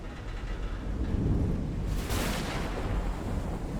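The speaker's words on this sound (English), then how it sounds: "Lightning cracked right then." Rolling thunder from a lightning strike in the video game Call of the Sea, a loud low rumble throughout with a sharper crack near the middle, heard alone without talk.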